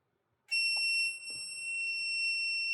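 A steady high-pitched electronic beep from an Auxito jump starter pack sounds continuously after a click, loud and close, with a couple of faint knocks underneath.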